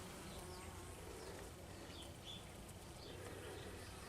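Honeybees buzz faintly and continuously around outdoor beehives, a soft steady drone with a few passing insects in a quiet field setting.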